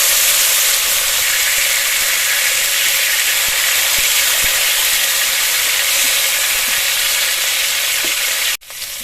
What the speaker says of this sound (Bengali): তারপরে ভেজে নেবো। জল বেরিয়ে যাচ্ছে, তাহলে পটল ভাজাটা খেতে ভালো লাগবে।